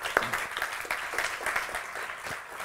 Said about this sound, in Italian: Facciamo un applauso a Antonello.